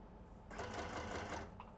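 A sewing machine stitching through vellum with ordinary thread runs in a short, steady whirring burst of about one second, starting abruptly and stopping, with quiet background before and after.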